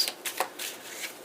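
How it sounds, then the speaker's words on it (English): Tarot cards being shuffled by hand, a few quick riffling bursts close up and fairly quiet, alone without talk. "we're going to do 3 shuffles"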